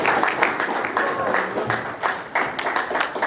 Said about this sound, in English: Can I have another round of applause for Sahil,